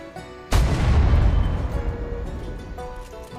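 One loud, close cannon shot booms out after a brief quiet, its deep rumble rolling on and slowly decaying for a few seconds.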